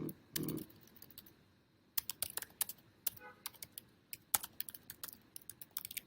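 Rapid typing on a computer keyboard, close up, with irregular bursts of crisp key clicks and a brief pause near the start, with no voice.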